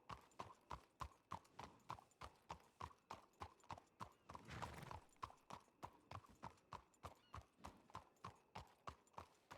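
Horse hooves clip-clop at a steady walking rhythm across a video game roleplay world, close and distinct, with a brief burst of broadband noise partway through and no talking.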